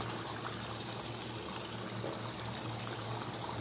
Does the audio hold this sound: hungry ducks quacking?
no